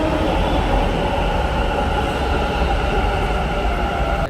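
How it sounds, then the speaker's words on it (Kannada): A metro train runs from Kengeri toward Baiyappanahalli, filling the space with a loud, steady rumble and roar of wheels and motors, continuous and close, as heard from inside the carriage. "ಮೆಟ್ರೋ ಹತ್ಕೊಂಡು ಹೋಗಬೇಕು ಬೈಯಪ್ಪನಹಳ್ಳಿಗೆ"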